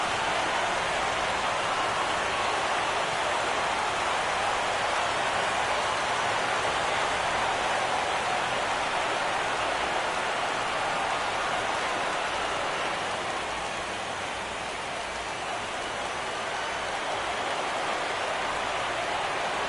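Rain falling on a baseball stadium during a World Series game between St. Louis and the White Sox, a dense and constant hiss of downpour that stays loud and even throughout, with no voices.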